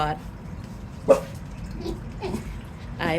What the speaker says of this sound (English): as my dog makes more noise